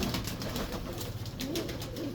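A pigeon coos in low, murmuring tones, close by and steady, against a constant hiss of background noise with no voices.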